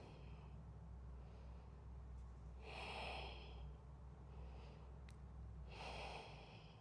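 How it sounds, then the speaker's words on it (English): Slow, soft breathing in and out through the nose during a yoga stretch, with two airy exhales about three seconds apart over a quiet low hum. "Breathing in and out through the nose."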